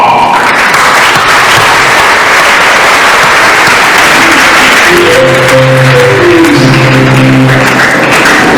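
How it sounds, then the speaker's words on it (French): Loud, dense applause from a congregation fills a Mass held for the blessing of the pioneer Brothers' tombs, with a tonal musical line rising beneath the clapping partway through. "Nous demandons à toute la famille lassalienne de l'applaudir frénétiquement."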